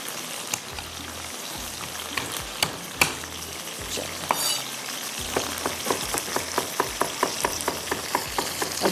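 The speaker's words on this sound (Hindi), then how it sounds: "चिकन हमारा फ्राई हो रहा है" Chicken frying in a pan for chilli chicken, heard as a continuous crackling sizzle with scattered pops and clicks. Near the end, quick spatula taps come in a fast regular run, all close and without speech.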